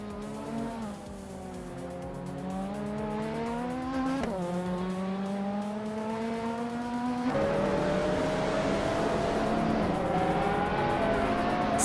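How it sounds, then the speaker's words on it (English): A 1991 Ford Sierra Sapphire race car in a racing video game holds a loud, continuous engine drone that climbs in pitch, drops sharply at gear shifts, then winds up again, with other car noise in the background. "Archer Ronan and 92 is driving a 1991 Ford Sierra Sapphire"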